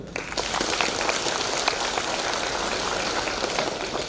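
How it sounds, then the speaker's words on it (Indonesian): An audience at a formal speech claps together, a dense, steady burst of applause lasting a few seconds with no one speaking. "tepuk tangan beliau."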